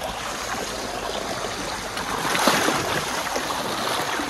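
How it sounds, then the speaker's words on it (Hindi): Cold water gushing from an outdoor tubewell, a continuous loud rushing splash with a slight swell midway, no voices. "यहाँ पे नहाते हैं भाई ट्यूबवेल पे"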